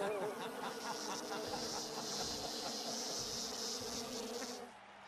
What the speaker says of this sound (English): Will er jetzt seine Insektenarmee auf mich hetzen, oder wie?